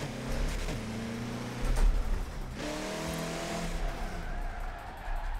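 Raptor Ranger RC drift truck sliding sideways, its electric motor whining up and down through changing pitches with tire scrubbing noise, close and fairly loud, with no voices.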